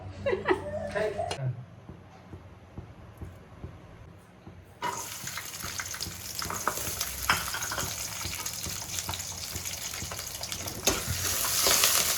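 Loud sizzling and crackling of fish frying in hot oil, a steady hiss that grows stronger, preceded by a few seconds of voices and clatter.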